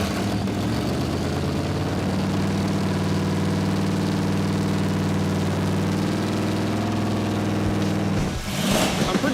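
An off-road Dodge Challenger V8 on a freshly broken-in cam idles with a steady, loud, lumpy rumble, then gives one sharp rev near the end.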